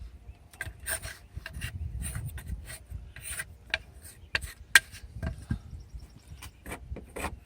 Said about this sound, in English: I'm going to keep continuously scraping off all the old stuff.